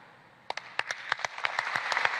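Applause at a political session in Ecuador about President Guillermo Lasso's impeachment trial starts as scattered claps and builds into a dense, steady round of clapping, moderately distant.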